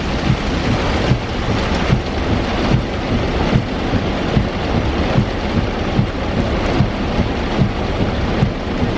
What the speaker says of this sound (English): this rain, can you hear this?